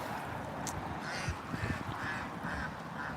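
Ducks quack and honk repeatedly across Percy Priest Lake, a flock heard at a moderate distance over steady wind and water noise, with no talking.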